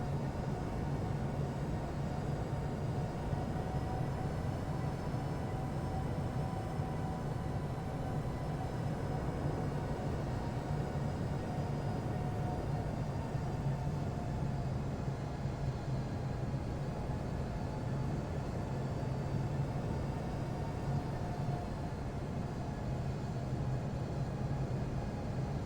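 A heavy Air Portugal airliner lands on runway 5 at Madeira Airport, heard as a continuous, even engine and airflow roar that holds steady throughout with no talking.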